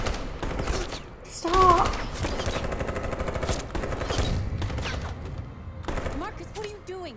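Bursts of gunfire in the video game Detroit: Become Human, rattling volleys mixed with game music and shouting voices, fairly loud and continuous throughout.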